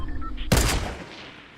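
A sudden loud gunshot in Fortnite Battle Royale cracks out of a low rumbling game backdrop, a single burst with a booming tail that fades over about a second, no talking.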